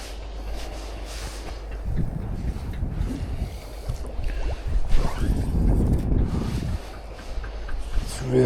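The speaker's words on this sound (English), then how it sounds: "I've got a nice wind blowing straight in my face." Wind gusting on the open banks of the River Tay in Scotland during spring salmon fishing, a steady low rumble with microphone buffeting that swells in heavier gusts, no talk.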